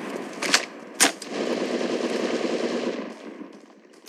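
Gunfire in Apex Legends, with two sharp close shots followed by a rapid rattling burst of automatic fire that fades out over a few seconds.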